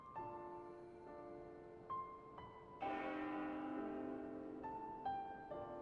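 Church bells in a video game ring out in several clear, resonant strikes, each new tone sounding over the decaying hum of the last, moderately loud against a quiet background.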